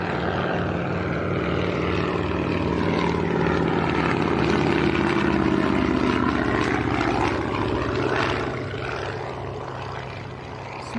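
Avro Anson propeller aircraft passing low over the runway at Leeds Bradford Airport, a loud steady piston-engine drone and prop hum that swells mid-pass and slowly fades as it moves away.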